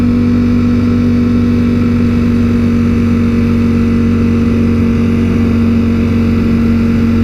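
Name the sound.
Ducati motorcycle riding past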